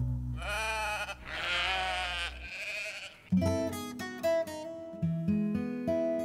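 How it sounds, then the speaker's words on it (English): Sheep bleating close by on a small farm, a few long wavering calls followed by a rapid series of shorter bleats, with no talking. "Sheep."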